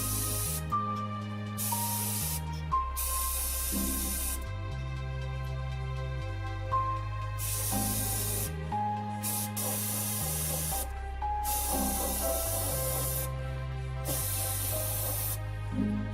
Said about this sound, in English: Employ circular motion while spraying.